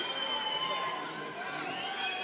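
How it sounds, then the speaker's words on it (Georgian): A hall crowd cheers for a player, a steady roar of many voices that sounds distant and fairly faint, with some higher shouts rising above it. "გესმით როგორ გულშემატკივრობს მას დარბაზის უმეტესობა"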